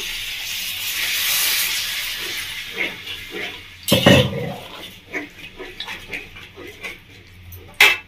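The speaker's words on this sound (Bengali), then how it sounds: "মধ্যে দিয়ে দিচ্ছি গরম জল" Hot water hisses into a pan of parwal paneer (pointed gourd with paneer) on a stove, a loud steamy sizzle at first that fades into softer bubbling and a few scattered clinks.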